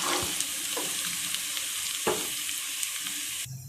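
Garlic, cumin seeds and black peppercorns frying in hot oil for a tadka, giving a steady, close sizzle with a few stirring scrapes, cut off abruptly near the end.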